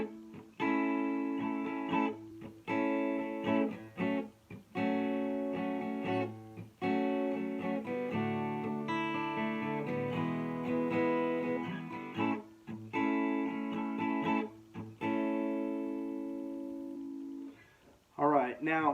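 An acoustic guitar is strummed in A, with rhythmic chord strokes and brief changes in a steady groove, close and clear with no one talking.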